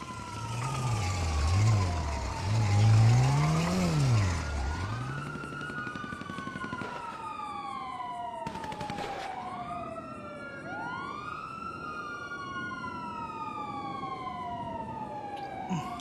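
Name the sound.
police car siren in a video game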